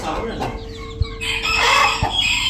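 An agitated rooster, among Spanish breed chicks, gives sharp, harsh crowing and clucking calls close by, with a couple of brief thumps in between.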